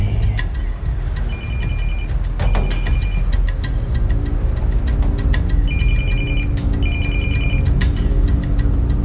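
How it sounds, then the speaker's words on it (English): A telephone bell rings loud and close in two bursts of rapid trilling rings, a pause between them, with no voices over it. "the phone rings."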